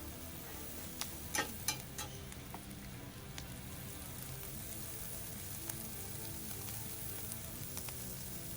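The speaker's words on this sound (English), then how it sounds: "we're just giving it just a little bit of colour, caramelisation, and just rewarming the meat" Tender meat rewarms and caramelises in a pan with a soft, continuous sizzle, a few sharper crackles and ticks early on, then a steady quiet hiss without talk.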